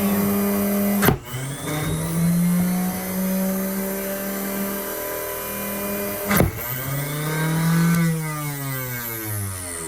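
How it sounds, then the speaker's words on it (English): A power saw cutting fret slots in a cigar box guitar neck at high revs, a steady loud whine that drops in pitch as the blade bites in twice, with two sharp bursts where the slots are cut. "I'm going to cut the 6th fret here, and I'll demonstrate what I mean by keeping the revs high and going as fast as I can"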